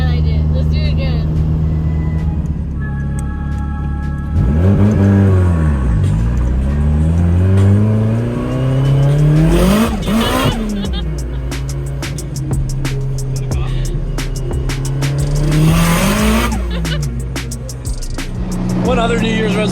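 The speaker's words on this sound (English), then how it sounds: "I love how this car sounds." Toyota Chaser JZX100 revs hard with wheel spin, its engine note sweeping up and down through loud surges and screeching bursts, close and dominant throughout, with voices faintly under the roar.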